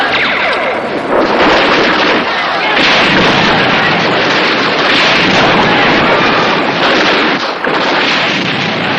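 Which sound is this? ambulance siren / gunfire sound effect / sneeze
gunfire sound effect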